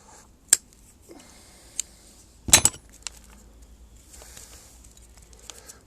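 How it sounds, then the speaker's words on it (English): Shears snipping branches while pruning a bonsai tree: a few crisp, close metallic cuts, one louder double snip in the middle, over a quiet background. "Gonna cut this guy back a little more."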